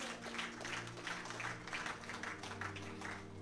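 A church congregation at a Sunday service claps in a loose, rhythmic pulse, fairly faint and distant, over a low steady hum.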